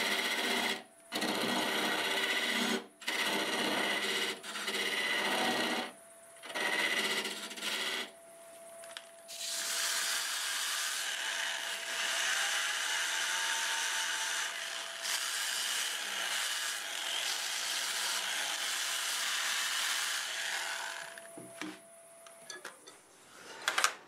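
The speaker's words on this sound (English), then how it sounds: "Okay, I gotta put a little dovetail shape in here." A wood lathe spins chestnut end grain while a tool cuts a dovetail shape, with a sustained whirring hum, intermittent scraping chatter and a steady tone throughout, fairly loud and close.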